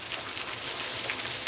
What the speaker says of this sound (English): And it's downpouring.